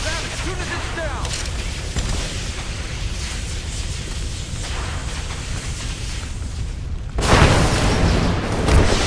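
Smoke grenades go off in Rise of the Tomb Raider as a loud, sustained rumbling roar, building to a sudden heavy burst near the end, with voices mixed in.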